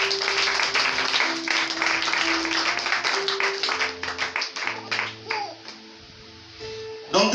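Church congregation clapping and cheering, loud dense applause with voices and children's chatter mixed in, thinning out toward the end.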